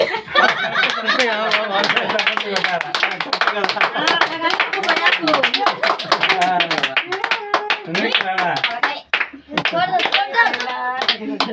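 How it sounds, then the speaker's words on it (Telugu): Hands clap repeatedly under constant chatter, with laughter mixed in. "చప్పట్లు కొట్టాలి"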